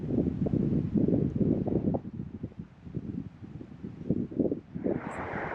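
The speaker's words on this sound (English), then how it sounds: "It's very windy and it's very cold" Cold wind blows by a river in Shikoku, buffeting the microphone in low, uneven gusts that rise and fall in strength, with a hissier rush of air near the end.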